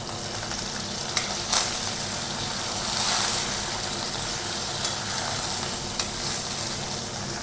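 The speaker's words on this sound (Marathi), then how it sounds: "हिरवी मिरची आणि लसूण हलकासा तळत आला की त्यामध्ये कढीपत्ता टाकून घ्यायचा आहे।" Curry leaves sizzling in hot oil with green chilli and garlic for shevaicha upma, a close, steady frying hiss with a few light pops and soft clicks of stirring, without talk.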